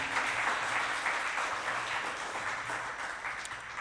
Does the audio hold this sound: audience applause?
yes